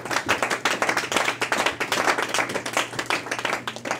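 A church congregation claps together in a fast, steady rhythm in praise of the Lord, the dense, even handclaps filling the room without speech.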